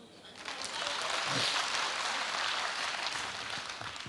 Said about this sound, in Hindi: हाथ ऊपर कर रहे हो तो ताली बजा दो फिर